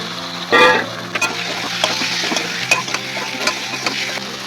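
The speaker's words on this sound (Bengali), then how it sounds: "তো এইবার মাংসটা দিয়ে দিলাম" Chicken pieces drop into hot oil in a pan for a Bengali chicken malai curry, a loud burst of sizzling at first that settles into steady frying crackle with scattered clinks of a spoon stirring.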